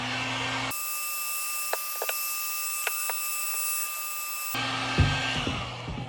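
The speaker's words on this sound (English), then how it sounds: "when you put the heat gun to it" A heat gun blows hot air to warm grease into leather firefighter boots: a steady, loud whine that switches on, holds for several seconds with a few small knocks, then stops abruptly.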